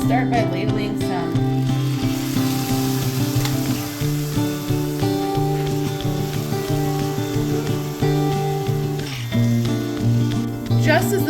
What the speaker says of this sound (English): just as the moisture starts to bubble out and you hear that sizzling sound